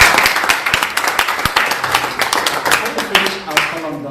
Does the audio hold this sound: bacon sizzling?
no